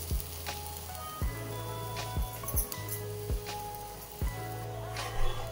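Rava uttapam with onion fries on a pan, a quiet steady sizzle broken by a few sharp clinks and taps of a utensil.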